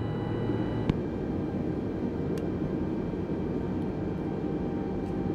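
Airbus A320 on runway 26 at KJAX in a flight simulator, a steady engine roar holding evenly throughout with no talk over it, a couple of faint clicks.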